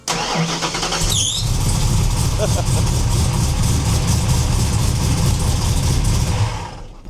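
A Foxbody Mustang engine cranks and catches, then settles into a loud, steady idle close by, with a voice speaking briefly at the start.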